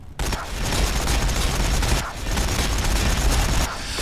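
Units fire dense volleys of gunfire in the Warhammer 40,000: Battlesector video game during an Ork versus Necron multiplayer match, with loud, continuous bursts of shooting and booming impacts, briefly pausing between volleys.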